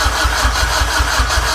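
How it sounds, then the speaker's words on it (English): A Honda K20 engine swapped into a Mazda RX7 cranks on the starter without firing, a steady rhythmic chug of about eight low pulses over a continuous whir, close and loud, with no voices. "it won't start because I've got the ECU disconnected, but it should crank over."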